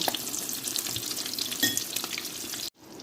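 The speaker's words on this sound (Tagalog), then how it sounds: "pwede na natin baliktarin ang ating eggplant" An eggplant omelette fries in a pan with a dense, close, continuous sizzle and crackle, lightly clattered by a utensil before cutting off abruptly near the end.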